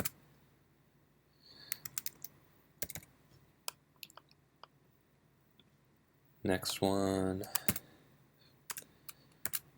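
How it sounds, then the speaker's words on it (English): Sparse keyboard key clicks and taps, scattered irregularly, then a short burst of rapid typing near the end, with brief speech at the start. "too fast there on the keyboard"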